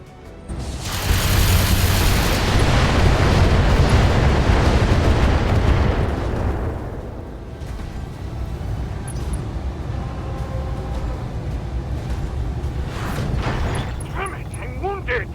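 Missile explosions in a tabletop-style game session, a loud sustained roaring blast rumbling for several seconds before fading into lower rumble, with faint sharper bursts near the end.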